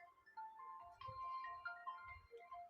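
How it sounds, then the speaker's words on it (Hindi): A mobile phone ringtone goes off during a Hindi classroom lecture, playing a bright, steady electronic melody of repeating tones for the whole stretch, fairly close, with low room rumble underneath and no talk over it. "फोन आ रहा आपका"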